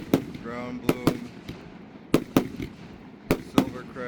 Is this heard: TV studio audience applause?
no